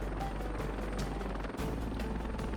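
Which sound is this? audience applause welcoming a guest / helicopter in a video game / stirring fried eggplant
helicopter in a video game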